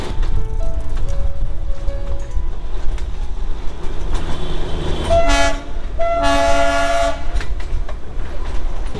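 Darjeeling Himalayan Railway toy train in West Bengal rumbles and clatters loudly and steadily up close, then two long, honking horn blasts ring out over the running noise.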